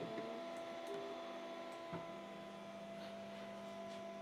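A multi-color 3D printer works on a white-and-black Olympic Phryge mascot medallion, giving off a steady, whining motor drone with layered tonal hums and faint clicks throughout, close and continuous.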